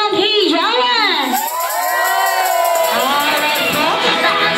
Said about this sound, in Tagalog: gusto po natin palakpakan na may kasamang hiyawan